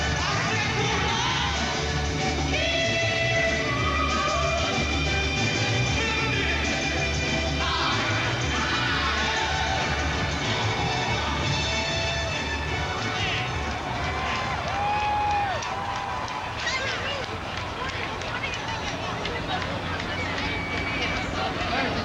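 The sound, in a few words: crowd awaiting President-elect Barack Obama's arrival on stage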